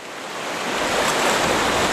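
Rushing rapid on the Mulberry River, a dense continuous roar of churning whitewater that swells slightly louder and stays close throughout.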